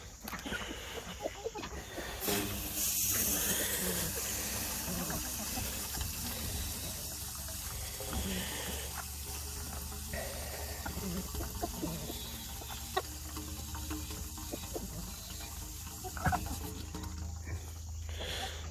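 A garden hose fills a water container outdoors in a farmyard, a steady rushing flow, while chickens cluck faintly nearby.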